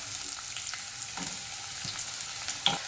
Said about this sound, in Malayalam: ഇനി നമുക്കിതിലേക്ക് സവാള ചേർത്ത് കൊടുക്കാം.